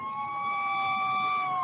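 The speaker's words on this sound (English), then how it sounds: "You're right there, right on top of when we hear the siren, loud, real loud, right there." An emergency vehicle siren sounds loud and close, a steady high wailing tone held throughout with no talking.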